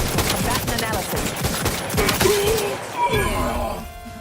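Gunfire from a gun in Outer Worlds 2: a rapid burst of sharp, closely spaced shots in the first two seconds, then a fading tail with a synthetic announcer voice and game ambience underneath.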